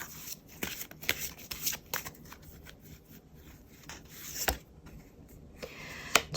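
Tarot cards shuffled by hand before one is drawn, a close, dry riffling and rubbing of card stock in uneven bursts with a few sharper snaps.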